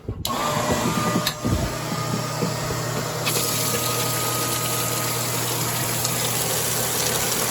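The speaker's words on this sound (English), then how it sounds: "I hooked up my Liberty 331 transfer pump" A Liberty 331 transfer pump runs steadily, draining a Rheem gas water heater into a laundry sink, a constant motor whine and hum with a couple of brief clunks near the start.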